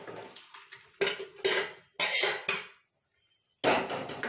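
A spoon stirs thick dal cooked with green pumpkin in a metal pot, making loud, close scraping and clanking in rhythmic bursts with one short pause before a final stir.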